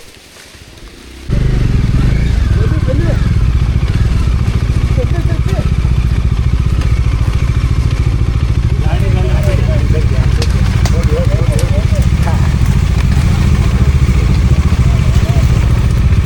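Off-road vehicle engine on a rough trail near Hebri, a loud, steady low rumble close by that starts abruptly and keeps running throughout, with people talking faintly underneath.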